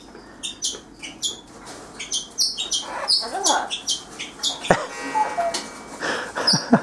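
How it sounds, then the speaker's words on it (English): A pet bird chirps repeatedly, giving quick bright tweets in irregular bursts close to the microphone, with some scratchy rustling and a brief soft voice mixed in. "You funny bird."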